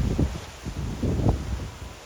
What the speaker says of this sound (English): These plants are going angry today due to the wind.